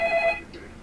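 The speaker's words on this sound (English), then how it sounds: "Answer the phone, Charlie." A telephone rings, one short electronic trill at the start, then fades into quiet room noise.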